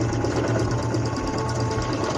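A Singer C5605 electronic household sewing machine runs steadily while stitching fabric forward and backward, a close, continuous mechanical whir with an even rhythm and no talking.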